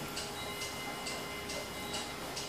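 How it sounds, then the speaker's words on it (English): Several antique clocks in a house tick together, a steady rhythmic tick-tock with sharp regular clicks over faint room hiss, no voices. "I can't help it. I like fixing the clocks."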